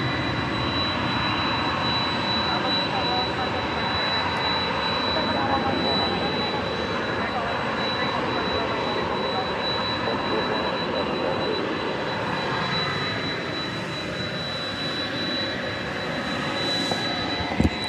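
Jet aircraft engines at DFW Airport at night, a continuous broad roar and whine that stays fairly even throughout, at a moderate distance.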